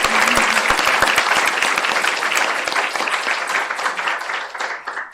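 An audience at a talk welcoming its speakers claps loudly and steadily, a dense close burst of applause that thins and fades over about five seconds.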